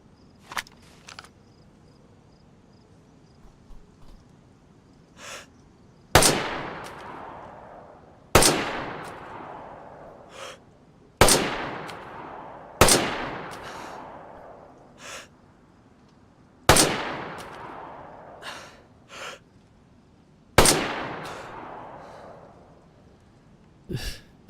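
Rifle shots in the survival game DayZ, seven loud single cracks spaced a few seconds apart, each trailing off in a long echoing decay over quiet background.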